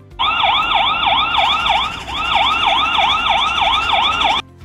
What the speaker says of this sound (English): Here's what it looks like with the light and the siren together.